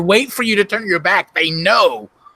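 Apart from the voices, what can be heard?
No distinct noise like a dog, phone or traffic.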